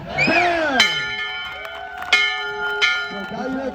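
A handheld bell rings out at a college acceptance celebration, several clear metallic strikes with long ringing tones, heard close over cheering voices and talk.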